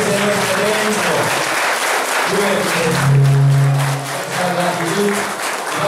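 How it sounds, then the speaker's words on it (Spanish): Loud, sustained applause from a church congregation in a chapel, dense clapping filling the space throughout, with a voice speaking over it partway. "Aplauso fuerte para Dios que nos ha regalado este nuestro evento."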